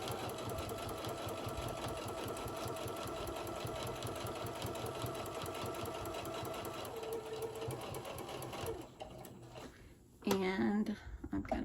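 A sewing machine stitches a decorative hot pad at a slow, steady pace, its rapid mechanical whir continuing for several seconds before stopping, followed by a brief burst of handling noise.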